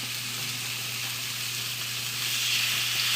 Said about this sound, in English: I'm going to put them in my nice hot oil, and we're going to just sear them off.